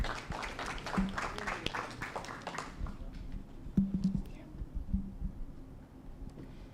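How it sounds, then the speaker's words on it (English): An audience applauds to welcome a speaker at a project launch event. Scattered clapping fills the first few seconds, then fades as a voice begins speaking over thinning claps. "with a round of applause"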